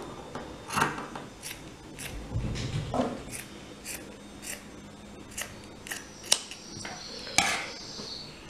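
Scissors snip through fabric in a string of sharp, close cuts roughly every half second, a few louder clicks near the end, in a quiet room.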